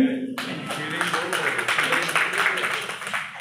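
Applause at a Punjabi song release event: a crowd claps steadily for a few seconds, fairly loud, with voices mixed in under the clapping.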